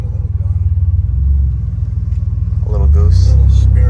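A 1993 GMC Typhoon engine idles with a deep, steady throb, swelling briefly, then revs up louder near the end while people talk over it.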